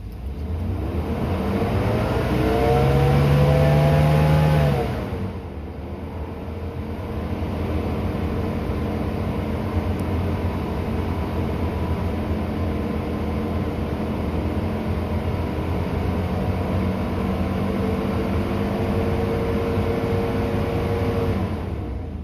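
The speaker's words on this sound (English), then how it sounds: "I don't know why my fan is on, but it is. It'll be loud and annoying." A loud, steady mechanical whir of the engine cooling fan on a 2017-or-later Ford truck with the 6.7 Powerstroke diesel runs throughout, with a brief louder surge near the start before settling into a constant drone.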